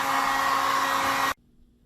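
A dryer blows steadily on wet-tumbled brass cartridge cases, a loud, even whooshing hum that cuts off abruptly after just over a second, leaving near silence.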